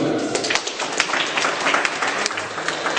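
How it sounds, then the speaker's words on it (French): Sustained applause from an audience at an art exhibition opening, dense clapping filling the whole stretch at a steady, fairly loud level. "On peut l'applaudir."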